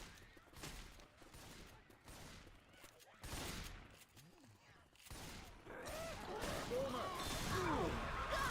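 Heavy gunfire from a big gun in a multiplayer shooter match, a dense run of booming shots and crashes that grows busier toward the end, with voices talking over it.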